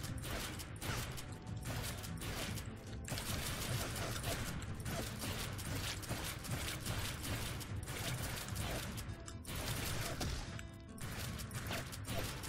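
Shotgun blasts from the super shotgun in the zombie game GIBZ, a dense, continuous barrage of loud booming shots and mechanical clatter with no talking over it.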